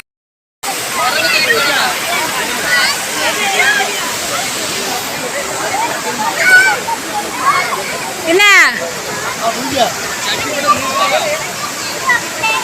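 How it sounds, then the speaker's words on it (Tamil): River water rushing and splashing steadily at a riverside near a temple, loud and close, with people talking over it and a brief whistle-like sweep midway. "ஆறு தண்ணி சூப்பரா இருக்கு"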